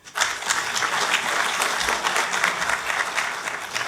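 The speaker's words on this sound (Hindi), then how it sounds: "मैं चाहूँगा डॉक्टर विपिन कुमार जी के लिए खास विशेष ताली हो जाए" An audience at a Consumer Affairs and Food and Public Distribution event gives Dr. Vipin Kumar a loud, sustained round of applause, dense and even from start to finish.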